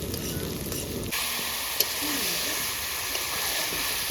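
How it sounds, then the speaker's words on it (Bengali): Chicken meat being sautéed (kosha) in a pan, a steady close sizzle that jumps louder after the first second, with a brief clink of the spoon. "একদম দারুণ মাংস কষানো হচ্ছে।"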